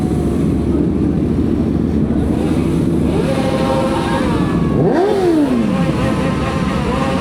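Group of motorcycles parked together, engines revving hard with rising and falling whines over a constant loud rumble, up close and continuous.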